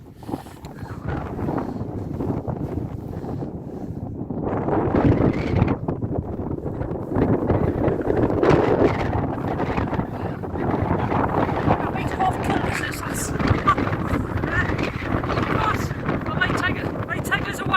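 Strong wind gusts up to 65 km/h buffet a hilltop at Hownam Law where a tent is being pitched, producing loud roaring microphone noise with surging peaks and someone speaking intermittently underneath.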